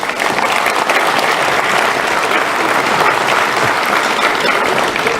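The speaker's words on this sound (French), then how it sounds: "Vous pouvez les applaudir, elles le méritent." Dense, even clapping fills a hall as the audience applauds the prize winners at Mennecy's 2017 New Year's greetings ceremony, loud and unbroken for several seconds.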